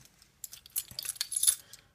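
Alfa Romeo car keys on a keychain with a Massimo Dutti ball jingle up close in a quick burst of bright metallic clinks, shaken loosely for about a second, with no talk.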